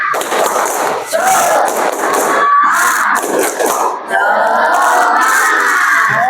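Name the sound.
class doing a rhythmic clapping chant, tepuk semangat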